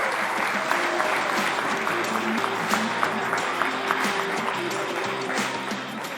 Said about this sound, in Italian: facciamo un applauso ai genitori e allenatori